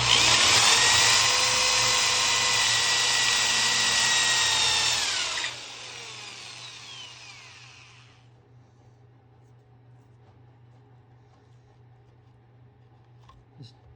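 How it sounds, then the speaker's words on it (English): A big power drill bores into wooden chair parts in one long, loud, steady whine that winds down and fades out, leaving near silence with a faint click at the end. "This big drill is overkill,"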